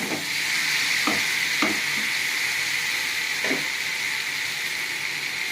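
Boiled moong dal goes into a pan of sizzling spices and green chillies for a fish-head moong dal, a steady loud frying hiss with a few sharp stirring scrapes from a spoon, no talk.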